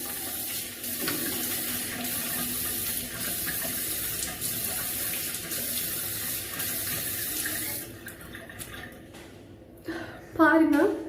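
A bathroom tap runs steadily into a sink while face product is rinsed off, a broad continuous splash that stops near the end before a short burst of louder water; a voice talks briefly over it.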